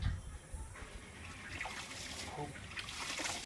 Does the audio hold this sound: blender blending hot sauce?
no